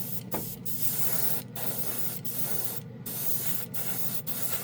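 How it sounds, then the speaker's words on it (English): Steady airy hiss of an airbrush spraying acrylic primer, with brief pauses between bursts, close and continuous at moderate volume. "Always use primer when you're spraying an acrylic"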